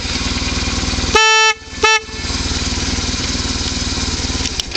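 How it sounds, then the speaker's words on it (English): Horn on a 2003 BMW R1150RT motorcycle blares in two loud, steady honks, a longer one then a short one, over the constant drone of the idling engine. "then this is for the high beam, and then you got your horn"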